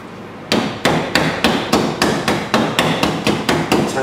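Repeated sharp tamping strikes pushing an end disc down into a 4-inch silver spider web firework shell, about two per second in an even rhythm, loud and close with no talking.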